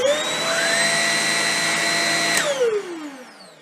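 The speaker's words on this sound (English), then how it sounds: "We're going to turn the vacuum on here" A Shark Rocket Zero M vacuum cleaner runs loud and close with a steady high motor whine, then spins down as it is switched off near the end.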